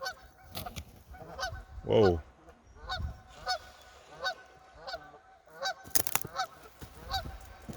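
A goose honks beside its nest on the shore of Thurston Bay, British Columbia, giving a string of loud, close honks spread through the stretch, while a person murmurs briefly in between.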